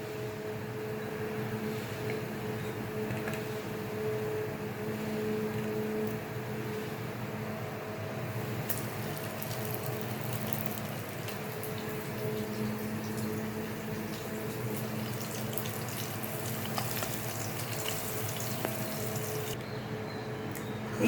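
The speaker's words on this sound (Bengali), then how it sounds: "এবার সেটা আমি প্যানে ভাজতে দেব।" Flour-coated fish fillets frying in a pan give a steady, even sizzle and hiss that runs unbroken and fairly quiet throughout, with no talking.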